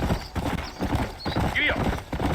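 Horse hooves clip-clopping at a quick gallop in the Red Dead Redemption game, close and rhythmic, with a short whinny partway through and a voice talking over it.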